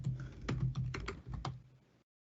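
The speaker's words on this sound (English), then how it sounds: "So I'm going to type something" Quick keystrokes on a computer keyboard, a close burst of irregular clicks and taps for about two seconds, then silence.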